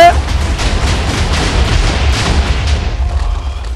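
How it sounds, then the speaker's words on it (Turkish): A loud Minecraft explosion destroys a prison, a dense roar of overlapping blasts and rumbling booms that stays heavy for nearly four seconds before thinning slightly at the end. "Aha patlama başladı."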